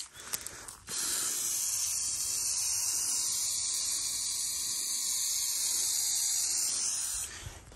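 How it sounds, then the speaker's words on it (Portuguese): Aerosol spray can blasting onto a fire being lit, one continuous loud hiss of about six seconds, close up, with a brief rattle before it. "Tacar esse sprayão aqui pra acelerar o processo, né?"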